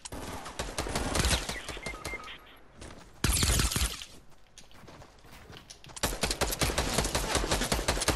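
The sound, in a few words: gunshots in a video game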